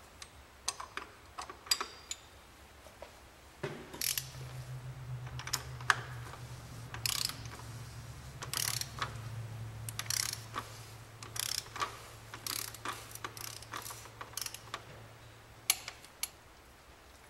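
Wrench clicks and ratcheting as a plastic oil filter cover is tightened to torque on an Audi A3 2.0 TDI, with sharp close ticks over a steady low hum and no talk.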